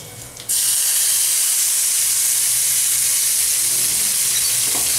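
Ground cumin paste hits hot oil in a pan of Bengali-style bhagon fish curry, bursting into a loud, steady sizzle that holds at full strength throughout, close and unbroken, with no voices.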